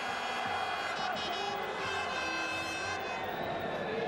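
A football crowd at a small European stadium, at the Champions League match between Sparta Prague and Barcelona, gives off a steady dense roar with faint chanting tones, continuous and spread out in the distance.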